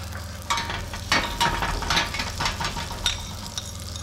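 Finely minced onion hits a hot pan and sizzles in a bright, steady hiss, with stirring scrapes over a low background hum, close and fairly loud with no talking.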